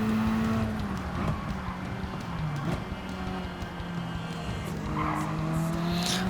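A WTC 600 race car in Gran Turismo 7 skids with long, wavering tire squeals over a constant engine drone, the screech sliding in pitch for several seconds, loud and close with no speech.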